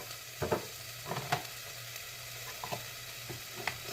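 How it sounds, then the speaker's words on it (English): Cabbage stir frying in a pan, a steady close sizzle broken by irregular scraping and clacking strokes of a utensil, with no voices. "I'm going to stir fry this. Quick stir fry this a little bit."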